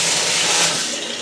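Water gushes steadily from a hotel room tap at the MGM Grand in Las Vegas, a loud, continuous close hiss and splash with no voices over it.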